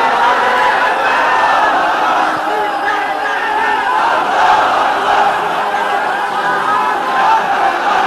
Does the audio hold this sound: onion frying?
no